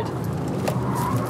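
A tuned Audi RS6 estate car accelerates with a steady, strong engine roar heard close by, a short unbroken burst with no talk.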